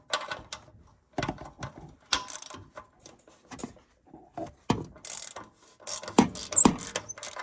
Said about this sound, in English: And with this ratchet and deep 14 millimeter, again, okay, fairly loose.